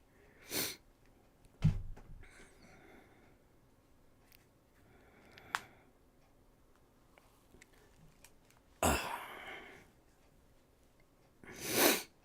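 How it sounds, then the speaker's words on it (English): Sneezes and sniffles from a person with allergies, a few sharp, isolated bursts with quiet gaps between them, plus faint clicking in the background. "I swear, I don't mean to sniffle too much"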